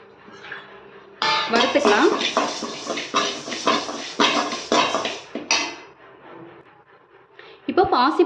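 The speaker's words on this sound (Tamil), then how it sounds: "பாசிப்பருப்பு வந்து வறுத்துக்கலாங்க" Moong dal being dry-roasted in a pan, stirred with gritty scraping and rattling bursts, with a voice talking over it and quieter pauses between the stirs.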